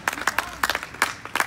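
An audience claps in a short, scattered burst, several hands striking unevenly at moderate volume.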